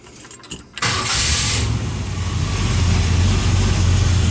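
A Harley-Davidson motorcycle engine fires up after a few quiet clicks, then settles into a loud, steady, deep rumbling idle close by, with no talking.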